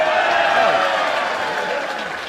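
A wrestling crowd at an independent match featuring Shawn Spears claps and cheers steadily, a dense wash of applause that fades slightly toward the end, with faint voices mixed in.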